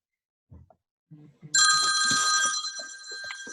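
A telephone starts ringing partway through an online Rotary club meeting and keeps ringing loudly, with a steady bright tone, under a few brief spoken words and background voices.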